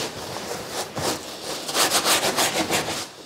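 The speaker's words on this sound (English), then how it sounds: "Give it a rub just in case." A sponge rubs back and forth over a priest's vestment fabric in a run of quick, scratchy strokes. They start sparse, then turn rhythmic and louder, with no talking.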